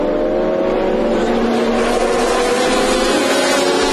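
A Graham Nash Saleen GT race car engine screams on the track at Oschersleben during a 2004 FIA GT Championship round, a loud, sustained high-pitched roar with steady harmonic tone, no voices heard.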